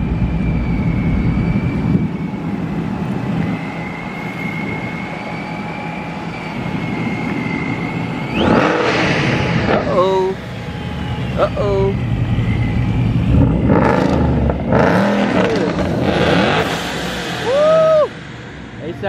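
A Ford Mustang GT350 engine revs at a car meet, rising in several sharp pulls over a steady idle rumble, with people talking nearby throughout.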